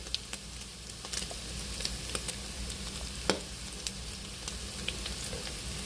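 Pork fries in a pan seasoned with salt, curry and cardamom, giving a quiet continuous sizzle dotted with sharp pops and crackles, plus one louder spit near the middle, with no talking.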